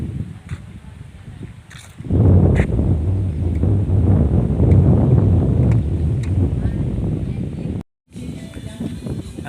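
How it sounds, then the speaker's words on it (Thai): Strong wind buffets the microphone in a steady roar, with a low rushing wash of the fast-flowing Mekong River at Savannakhet, Laos, underneath and a brief dropout near the end. "น้ำค่อนข้างไหลแรงนะลมค่อนข้างแรง"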